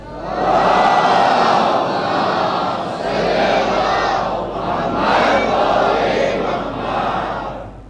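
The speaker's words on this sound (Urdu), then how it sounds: "مل جل کے ایک بلند آواز سے صلوات پڑھ دیں" A large congregation at a night majlis loudly recites salawat in unison, with several swelling waves of many voices together, continuous and dense.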